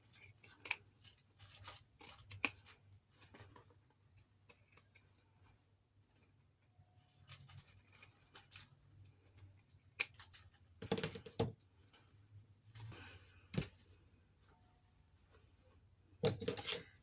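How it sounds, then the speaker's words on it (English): Scissors snip cloth around the curves of a fabric doll body, giving close, crisp clicks, sometimes single and sometimes in quick clusters, separated by quiet pauses. "Make sure you take small snips out of the fabric around the curves."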